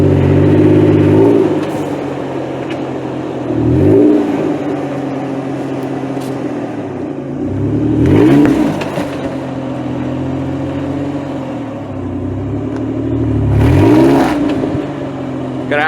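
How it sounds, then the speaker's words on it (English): A two-wheel drive Toyota 4Runner climbs over an obstacle off-road, its engine revving in three or four loud surges that rise and fall over a steady idle-like drone, with no talking. "Again, two-wheel drive 4Runner going over."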